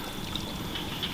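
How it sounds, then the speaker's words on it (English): A small waterfall where a canal steps down to join its original section, giving a steady, close rushing wash of water with no talk over it. "a little bit of a waterfall"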